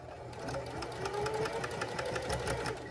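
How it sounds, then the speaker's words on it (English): Domestic sewing machine stitching fabric at a steady pace, a close, continuous rapid whirring and needle chatter with no pauses. "I'm gonna continue watching my road and sewing."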